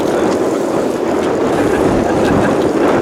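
A sailboat sailing onto mooring balls in strong wind gives a loud, steady roar of wind buffeting and rushing water, unbroken and close, with no talking.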